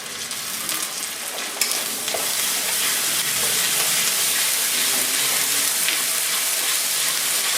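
Garlic paste and ginger paste frying in a pan for a prawn malaikari, a dense, loud, continuous sizzle and hiss close by, with a few stirring scrapes early on and no voices.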